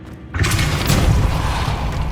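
A heavy magical impact booms out in Hogwarts Legacy after Depulso and Expelliarmus are cast, one loud blast that rises suddenly and then rumbles on.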